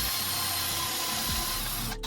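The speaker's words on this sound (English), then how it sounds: "We are going to drill a hole here to route the two wires we just pigtailed in through" Power drill boring a hole through several layers of aluminum in a Toyota RV roof during a fan install, a steady close whirring grind that runs continuously, then cuts off abruptly near the end.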